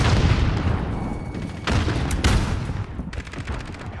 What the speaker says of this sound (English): Grenade down! Grenade!